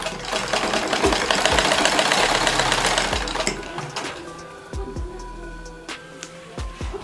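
A sewing machine runs steadily as it stitches along a saree, a loud continuous mechanical whir for about three and a half seconds, then stops, leaving faint handling clicks and taps.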